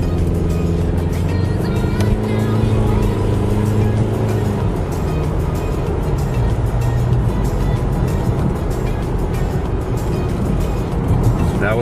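A Honda Accord pulls away from a traffic light in a snowstorm, its engine a steady, loud drone mixed with road and tire noise throughout.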